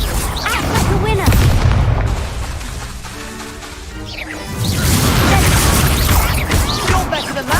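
Confringo fire spells burst into heavy booming explosions and crashes in Hogwarts Legacy combat, loud at the start, easing in the middle, then surging again with dense rumbling blasts.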